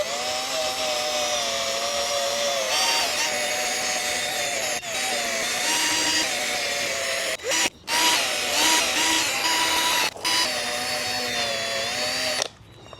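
A power drill fitted with a 3M headlight restoration sanding attachment whines steadily as it sands a hazy car headlight lens, cutting off briefly a few times and ending abruptly.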